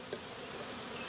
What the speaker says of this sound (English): the bees are going to want to try to fly out